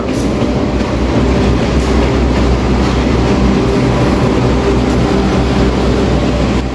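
A train hauled by a CC 201 diesel locomotive rumbles past loudly at close range, a continuous heavy roar with faint rhythmic clacking of wheels on the rails.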